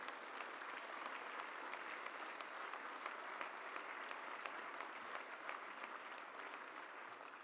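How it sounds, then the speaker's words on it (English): A political party audience applauds steadily after a leadership announcement, a dense, even wash of clapping holding at a constant level throughout with no break or talk. "Please give him a round of applause."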